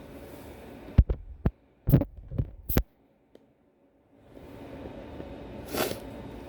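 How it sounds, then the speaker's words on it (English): A smokeless indoor grill set to about 325 degrees while cooking salmon steaks gives a few soft thumps, then a steady low electric hum settles in, fairly quiet and with no voices. "so I have a smokeless grill, and it's pretty cool"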